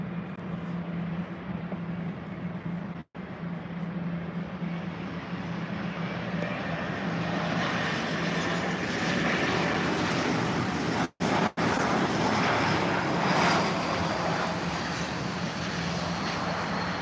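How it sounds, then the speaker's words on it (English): An Aer Lingus Airbus A320 arrives at London Heathrow, its jet engines a broad, loud roar that swells and holds as it passes by. The recording cuts out briefly a few times. "The Aer Lingus A320 coming in"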